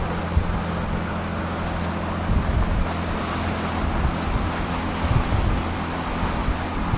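A boat cruises through waves across the Strait of Georgia between islands, with a steady close engine drone and a low hull rumble under constant wash of water and wind buffeting the microphone. No one speaks.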